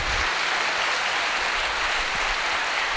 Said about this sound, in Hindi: जोरदार तालियां उसके लिए।